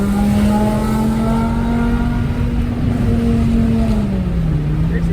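A BMW E60 M5 with its V10 engine drones steadily while driving, a loud continuous hum that rises slightly then dips as revs fall, with road and wind noise around it.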